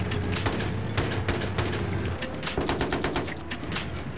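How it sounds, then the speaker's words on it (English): A machine gun in Battlefield 3 fires rapid repeated bursts, loud and close, with short gaps between volleys and continuous game action rumbling underneath. "Rockets and the other one is a machine gun."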